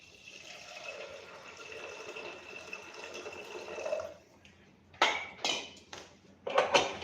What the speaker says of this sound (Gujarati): હવે એમાં આપણે પાણી ઉમેરીશું